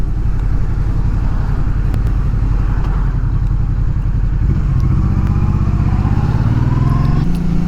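A Honda Transalp 650 V-twin motorcycle ridden on forest trails, its engine a loud, steady, close throbbing drone that keeps a constant beat and shifts in pitch slightly toward the end, with no voices.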